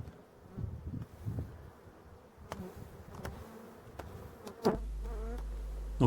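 A steady hum of many honey bees buzzing close by at a hive, punctuated by a few sharp taps of hive frames, with a louder droning tone near the end.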